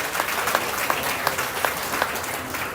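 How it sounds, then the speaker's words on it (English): Audience applause at a county fair junior livestock sale, steady dense clapping filling the space with a few sharper claps standing out, no talking over it. "Give them another round of applause."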